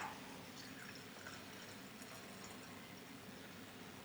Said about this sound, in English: put it on my tray here just to, in case I spill while I'm pouring the dye stock. And we're pouring it in.